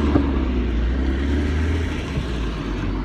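A 1996 Fiat Barchetta pulls away and drives on, heard as a steady low engine drone with road rumble, close and constant, with no voices over it.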